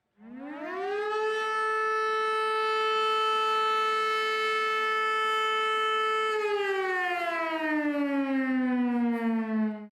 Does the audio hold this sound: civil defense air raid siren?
yes